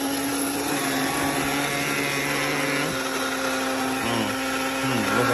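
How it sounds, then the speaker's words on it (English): An electric coffee grinder whirs steadily through coffee beans, a loud continuous motor drone whose pitch dips and wavers toward the end. "Grinding beans"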